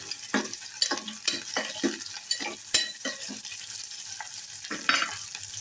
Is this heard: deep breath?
no